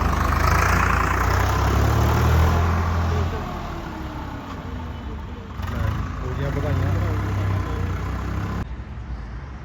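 A Sonalika 750 tractor idles nearby, a steady low engine rumble that swells and eases slightly, with people talking over it.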